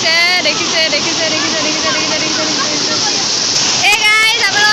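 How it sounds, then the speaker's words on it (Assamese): A hillside stream on Amsoi hill rushes down from above in a steady, loud roar of falling water, with a voice and musical tones layered over it. "গাইস আপোনালোকক দেখাইছো জুৰিটো ওপৰৰ ফালৰ পৰা তললৈ গৈ গৈছে"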